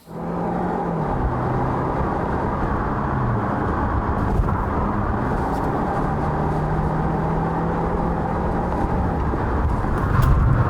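A 2019 Kia Cadenza Hybrid on 17-inch tires braking hard on a slippery wet road, heard as a steady cabin rumble of tire and road noise with a faint whir, continuous and fairly loud throughout.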